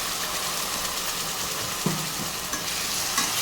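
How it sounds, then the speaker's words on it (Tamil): Ground coriander paste sizzles with onions in a hot pan, with a steady frying hiss and occasional scrapes of stirring. "இதை சேர்த்துட்டு நல்லா வதக்கி விட்டுக்கோங்க."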